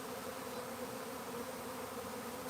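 A low, steady roar of swarming bees in a box, a dense continuous buzz close by and unbroken, with no talking.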